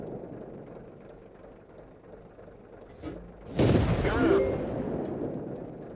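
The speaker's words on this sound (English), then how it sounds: "Wait for the gun to reload before firing again." A tank's main gun fires once in World of Tanks, a sudden heavy boom with a rumbling tail that rises over a low engine drone, with no talk.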